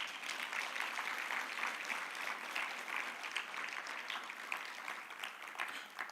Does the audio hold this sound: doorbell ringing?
no